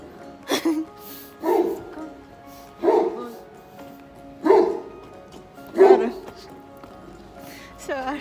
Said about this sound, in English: Wow, it's a big dog.